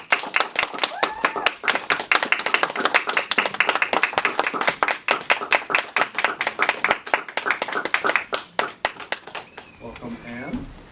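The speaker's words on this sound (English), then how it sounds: "All right, let's give her some applause." Meeting attendees clapping to welcome a newly accepted member: close, crisp individual claps from a small group, sustained for around ten seconds before tapering off, with murmured voices underneath.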